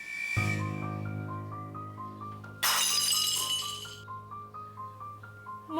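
A plate shatters in a dramatised domestic scene, a sudden loud crash of breaking ceramic with bright tinkling debris, set against sustained musical tones that continue around it.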